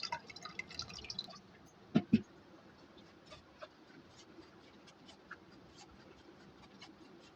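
Sago pearls are washed with water, producing quiet scattered drips and small splashes, with two sharper splashes near the middle against a soft background, faint and close.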